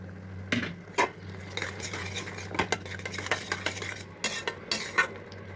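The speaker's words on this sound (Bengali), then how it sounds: "টমেটোটা আমার নরম হয়ে এসেছে। এখানে আমি এই যে ডালটা দিয়ে দেব।" Lentils are stirred into softened tomatoes in a cooking pot, with repeated sharp metal clinks and scrapes of a spoon against the pot over a low steady hum and faint sizzle, close and without talk.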